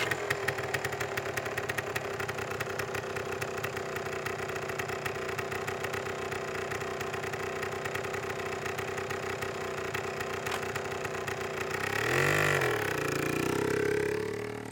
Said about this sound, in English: I used a gas-powered motor as an effect for a Tesla